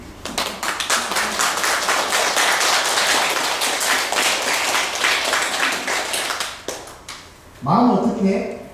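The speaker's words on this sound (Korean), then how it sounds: "할 줄 알겠으면 박수 좀 쳐봐." Dense, lively clapping from an audience at a Buddhist Wednesday dharma service rises quickly, holds steady, and then thins out. A voice begins talking as it ends.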